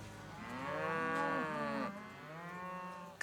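A cow lets out a long, low moo, then a second drawn-out bellow follows, close and clear with little else around.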